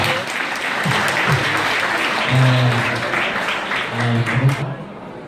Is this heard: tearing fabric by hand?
no